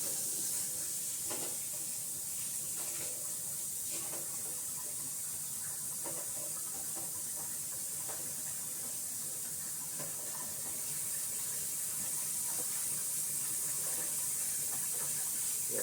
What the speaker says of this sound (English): I'm going to take a little sample of this and wash my hands with it and see if they're lathers.